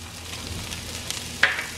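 Chopped onion and celery sizzling in a hot pan, a steady soft crackle with a sharper clatter of stirring near the end, close and with no talk.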